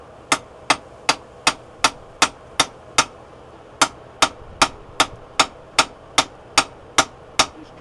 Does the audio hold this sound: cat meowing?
no